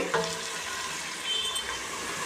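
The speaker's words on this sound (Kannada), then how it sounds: "ಈರುಳ್ಳಿ ಸ್ವಲ್ಪ ಗೋಲ್ಡನ್ ಕಲರ್ ಬರೋವರೆಗೂ ಚೆನ್ನಾಗಿ ಫ್ರೈ ಮಾಡ್ಕೊಳ್ಳಿ" Chopped onions frying with green chillies in a pan for ghee rice, giving a steady, even sizzle throughout with no voices.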